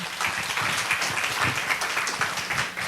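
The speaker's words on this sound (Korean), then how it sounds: "우리 박수로 한번 맞이하도록 하겠습니다." A church congregation applauds to welcome a preacher at a Sunday service, a dense steady crowd clapping that fills the room without pause and without speech.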